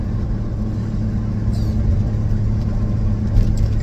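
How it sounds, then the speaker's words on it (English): A 1980s Ford Bullnose 4x4 truck engine with an exhaust leak idles with a heavy, steady low rumble, loud and close, holding an even drone with a slight swell near the end. "I got an exhaust leak."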